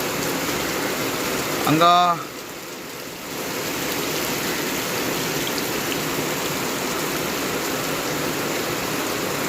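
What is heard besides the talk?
rain falling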